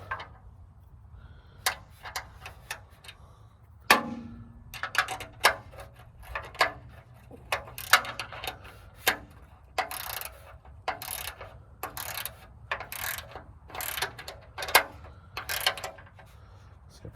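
Close, repeated clicking of a ratchet wrench tightening a nut on the rear light bracket of a Ford 8N tractor, irregular bursts of sharp pawl clicks with brief pauses, no talking.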